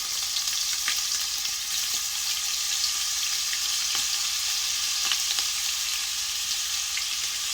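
Garlic being stirred into heavy cream and Parmesan in a pan, giving a steady close bubbling sizzle with faint utensil scrapes and no talking.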